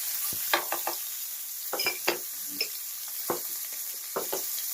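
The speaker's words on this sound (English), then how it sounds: "let me add shrimp. I'm going to saute that." Shrimp cook in a pan with garlic, giving a constant bright sizzle broken by repeated close scraping and clattering strokes as they are stirred, with no one speaking.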